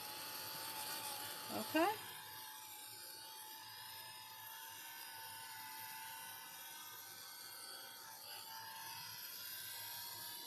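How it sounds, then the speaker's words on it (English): A handheld heat tool blows steadily to dry acrylic paint on an art journal page, a constant close whir lasting throughout, with a brief spoken word near the start. "get my heat tool. And we're just going to encourage this to dry a little bit quicker"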